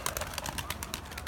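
Homing pigeons near their coop give soft, broadband cooing and fluttery calls that carry steadily through the short stretch, with voices faintly mixed in beneath.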